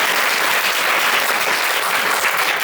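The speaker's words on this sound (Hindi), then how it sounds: "तालियां तो मैम के लिए" An audience claps loudly for a teacher in a continuous, dense wash of applause, close and sustained throughout with no pauses.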